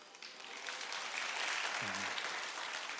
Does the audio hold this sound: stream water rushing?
no